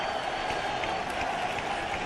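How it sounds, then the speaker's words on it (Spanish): Packed crowd in the Plaza de la Revolución José Martí applauding steadily, a dense, even wash of clapping heard from a distance for a couple of seconds. "ante el aplauso emocionado del pueblo congregado aquí en la Plaza de la Revolución José Martí"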